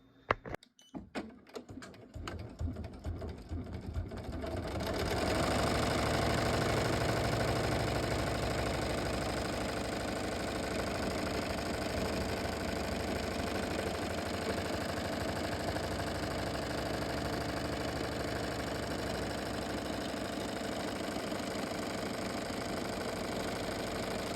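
Embroidery machine stitching a patch onto a jacket: a few rapid needle taps, then a steady, loud mechanical whirring and chattering that runs continuously, close up.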